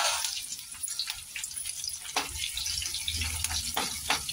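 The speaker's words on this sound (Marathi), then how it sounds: "आता जिरे मोहरी टाकूया ह्याच्यात, आणि मी ती हिरवी मिरची घेतली" Cumin, mustard seeds and green chilli sizzle in hot oil for besan bhindi, a bright close crackle of rapid pops and spits over a steady frying hiss.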